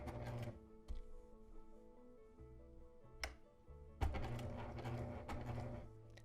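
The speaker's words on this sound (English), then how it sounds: "I'm going to sew this down with a 3/8 inch seam allowance" A sewing machine runs a 3/8 inch seam on a fabric mask, its needle chattering quickly in close bursts with a short pause and a restart partway through.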